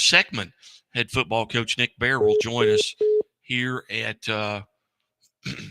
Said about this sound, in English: That was the beeping on my phone